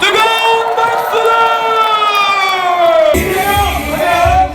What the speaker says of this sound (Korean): 뜨거운 박수를!